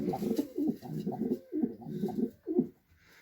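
Pigeons in a crowded loft of more than fifty birds coo close by, giving a series of soft, throaty, rhythmic calls in short repeating phrases.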